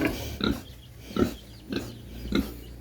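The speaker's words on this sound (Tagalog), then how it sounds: "Ang baboy ni Baby May" A pig grunts four times in short, evenly spaced bursts, fairly close and moderately loud, with no talk over it.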